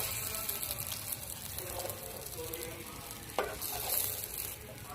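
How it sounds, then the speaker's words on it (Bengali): Banana flower koftas fry in hot oil with a steady close sizzle and bubbling, a few sharper crackles and a brief clatter of stirring breaking through partway. "তেলটা গরম হয়ে গেছে, এবার মোচার কোপ্তাগুলো ভেজে নেব।"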